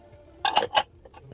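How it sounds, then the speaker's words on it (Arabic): Dishes clinking as they are loaded into a dishwasher in a home kitchen: three bright, close clatters in quick succession, followed by a couple of softer clinks. "فهنا رصيت المواعين في الغسالة"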